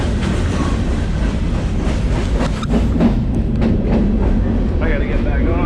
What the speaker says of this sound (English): That train's gonna leave.